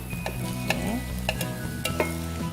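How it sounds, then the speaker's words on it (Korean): Onions and carrots stir-fry in an oiled pan, with a steady close sizzle and periodic scrapes and taps of a utensil against the pan; no one speaks. "양파를 먼저 볶다가 예, 당근을 볶아줄 거예요."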